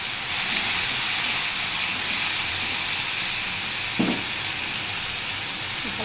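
Onion paste frying in oil with nigella seed tempering for a mustard pabda fish curry, a steady broad hiss and sizzle throughout, with one brief stir or tap near the end.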